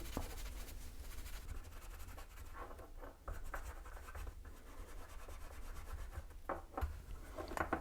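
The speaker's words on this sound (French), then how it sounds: "et tu vas la nettoyer Allez, avec de la laine d'acier ça marche" Steel wool scrubs a metal flange with a continuous, faint rasping sound and brief scratchy bursts. It is close up and quiet, with no talking.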